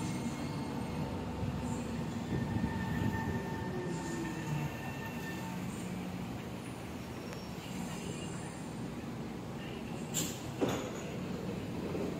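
A metro train runs steadily with a continuous low rumble and rail noise, faint squeals and a brief clunk near the end, with no talk.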